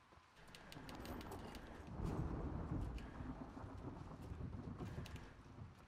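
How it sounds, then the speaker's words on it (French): A thunderstorm in the video game The Last of Us Part II rumbles as a long, low roll of thunder over a steady hiss of rain, with faint crackles above, continuous and without talk. "il y a de l'orage à foison là"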